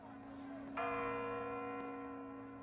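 A church bell rings in to mark the new year of 1944, one clear strike at about the middle with a long, humming decay and a second faint stroke later, heard over a steady low drone.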